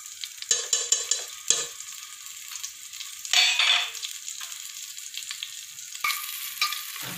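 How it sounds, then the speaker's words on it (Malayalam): Crushed ginger, chopped green chili and a pinch of asafoetida sauté in ghee for ven pongal. The sizzle comes in loud bursts and fades between them as the mixture is stirred, close and with no talking. "ഇതിലേക്ക് ഞാൻ ഒരു ചെറിയ കഷ്ണം ഇഞ്ചി ചതച്ചതും ഒരു പച്ചമുളക് അരിഞ്ഞതും കുറച്ച് കായപ്പൊടി ഒരു നുള്ള് കായപ്പൊടിയും ചേർത്തിട്ട് വഴറ്റാം"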